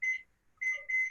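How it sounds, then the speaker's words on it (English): A kitchen timer beeps in three short, bright electronic bursts with brief gaps between, clear and alone during home baking of Libyan buns. "Timer."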